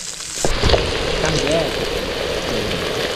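Onions sauté in a hot oiled pan for Tamil-style chicken kurma served with parotta, a steady close sizzle and crackle with a few stirring clinks.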